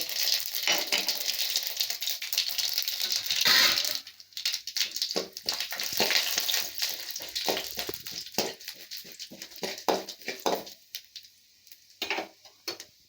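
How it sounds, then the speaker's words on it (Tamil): Mustard seeds spluttering in hot oil as a red poha upma tempering begins, a dense crackle and hiss that gives way to scattered sharp pops, fairly faint and with no talking. "கடுகு நல்லா பொரியுதுங்க"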